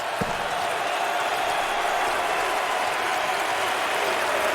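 A student crowd in the NCAA March Madness 08 basketball video game cheers steadily for the home team, a dense, constant wash of applause and voices with no letup.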